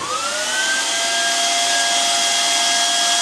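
A BAK MicOn semi-automatic hot air welding machine blowing, a steady loud whooshing airflow with a whine that rises in pitch as it spins up and then holds, close and alone.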